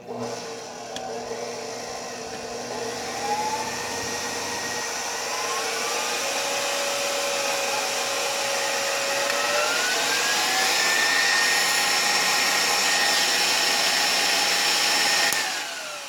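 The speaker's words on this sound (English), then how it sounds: "Because this is so loud in the mixer, I'm going to just come on and off periodically" An electric mixer whips egg whites for macarons with a loud, high motor whine that climbs in pitch as it speeds up, running continuously up close before cutting off near the end.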